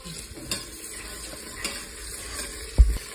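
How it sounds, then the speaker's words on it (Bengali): Ginger garlic paste goes into a pot of green chili and onion for khichuri, with a low sizzle under scattered spoon clinks and scrapes, ending in a couple of louder knocks against the pot. "আদা রসুন বাটা দেওয়া হচ্ছে, 1 টেবিল চামচ দিলেই হবে।"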